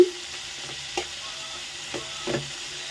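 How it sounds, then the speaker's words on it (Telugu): Onion, tomato, carrot and green chili frying in a pan, a steady low sizzle with a few soft stirring clinks and scrapes spaced through it, close and fairly quiet. "ఇవి వేగుతున్నాయి కదా"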